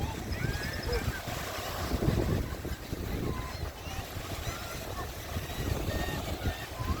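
Steady wind gusting across an open microphone outdoors, a continuous low rumble with faint water and surf noise behind it, no voices.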